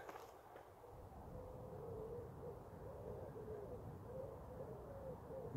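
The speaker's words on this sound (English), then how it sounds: "You can hear the pigeons roosting." Roosting pigeons coo in soft, repeated low calls, fairly faint and steady over background ambience, along a countryside trail between Morpeth and Mitford in Northumberland.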